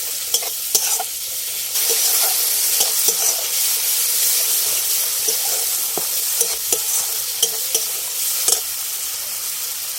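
Spice masala being stir-fried in a pan while making fish-roe koftas, with a loud continuous sizzle broken by repeated sharp scrapes and clicks of a spoon against the pan.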